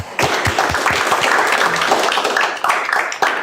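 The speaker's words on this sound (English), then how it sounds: "So give them a round of applause." Audience applause for presenters at an amateur radio VHF and UHF antenna day, close, sharp individual claps swelling into a full round of clapping in a small hall, with occasional thumps.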